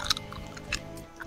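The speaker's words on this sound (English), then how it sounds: "I may be chewing on something." Someone chewing on something, quiet and close: soft, moist crunching bites in an uneven rhythm with brief pauses, no talking.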